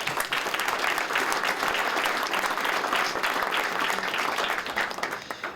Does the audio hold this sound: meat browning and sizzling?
no